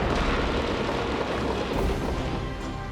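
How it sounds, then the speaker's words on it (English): Army troops opening fire on rioters in Timișoara, a dense, continuous roar of gunfire and booming blasts at high level that fades slightly toward the end. "They open fire."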